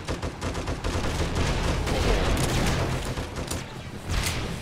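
SMG fire in the zombie survival game 7 Days To Die, rapid continuous bursts of shots with booming low impacts, loud and sustained throughout, with a player's voice faintly underneath.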